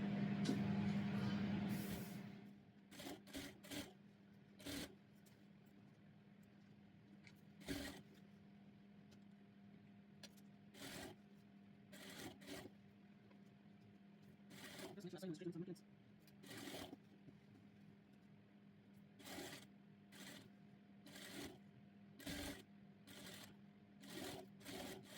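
Sewing machine stitching elastic casing on a lined handkerchief skirt, one short whirring run at the start followed by many brief taps and short stitching bursts spread through, mostly quiet between.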